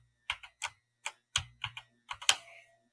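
Keys on a full RGB gaming keyboard are pressed one at a time, giving about ten crisp, irregularly spaced clacks, close and clear against near silence.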